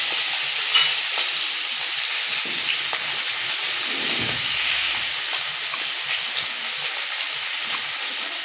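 Koi fish frying lightly in a hot pan over a strong blue flame for a village-style curry with elephant foot yam: a steady, hissing sizzle runs evenly throughout, close and fairly loud, with no voices.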